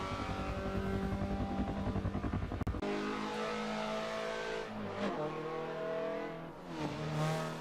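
A Mazda race car in a racing video game screams along at high revs, with a brief gear-change dip before climbing and wavering engine tones that stay loud and continuous throughout.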